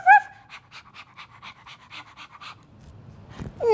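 A dog pants in a rapid, steady rhythm of short breathy puffs, close and fairly soft, with a brief vocal sound at the start and end.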